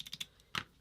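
The trigger button on a 9V board prototype clicks in a quick trio of light taps, then one sharper click after a short pause, close and quiet.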